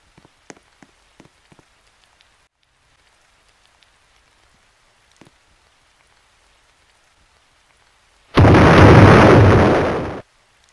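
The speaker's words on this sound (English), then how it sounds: "Already day and raining." Rain in the Roblox game Brookhaven starts suddenly after a stretch of near silence with faint clicks, a loud, dense hiss of downpour lasting about two seconds before cutting off.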